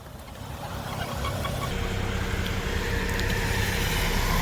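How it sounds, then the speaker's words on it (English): Traffic swishes by on a thick, foggy road, a continuous broadband road roar that builds slightly and stays steady, with no speech over it. "You can see these cars going by without the fog lights on."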